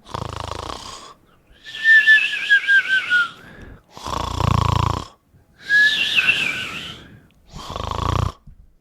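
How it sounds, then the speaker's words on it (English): Loud snoring in slow repeated cycles, each breath a wheezy, whistling rasp separated by brief pauses, close and alone. "Snoring. That's called snoring."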